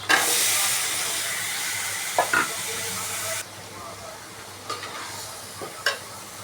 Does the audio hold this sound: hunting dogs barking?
no